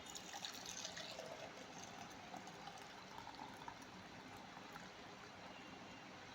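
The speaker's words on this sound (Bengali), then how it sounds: "ঢেলে দিচ্ছি মাটির পাত্রে।" Curd being poured into a clay pot for homemade sweet doi, a soft continuous liquid trickle and glugging stream heard close up and quietly, with no talking.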